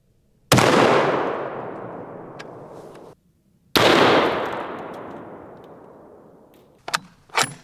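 Two loud, sharp rifle shots from a Barrett MRAD sniper rifle chambered in .338 Lapua, each with a long rolling echo decaying over a few seconds, followed by brief faint clicks.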